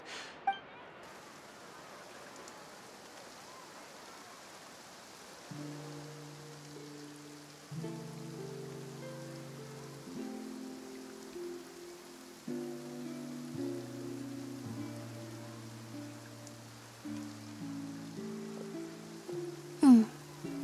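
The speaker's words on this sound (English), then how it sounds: "Looks like rain." A steady, faint hiss of rain falls in Fontaine in the Genshin Impact video game, running under a gentle sequence of soft musical notes that enters partway through.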